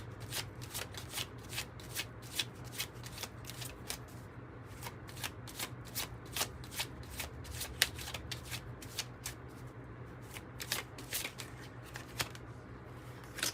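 Tarot cards shuffled by hand, with a steady run of quick, crisp riffling slaps repeated close up and fairly quiet for many seconds, alone with no talk.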